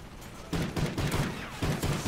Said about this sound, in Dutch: Waarom schiet dit wapen zo fucking traag, Call of Duty?